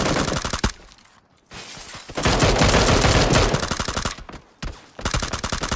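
PUBG gunfire during a squad match comes in dense, loud bursts of rapid automatic shots. The bursts are broken by short pauses, and a fresh volley starts after each gap.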